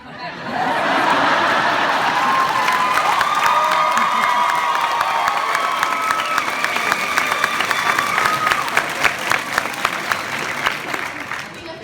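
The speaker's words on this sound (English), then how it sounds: "I didn't interpret that applause as people not liking me." Convention panel crowd at Awesome Con cheering and applauding, loud sustained clapping mixed with whoops and shouts that starts abruptly and carries on through the clip, with voices and laughter in the mix.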